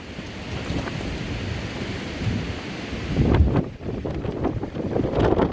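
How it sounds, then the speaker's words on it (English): Strong wind roars and buffets the microphone at a coastal viewpoint, a continuous rough rumble with gusty surges, loud and close, no talking. "The wind was maximum."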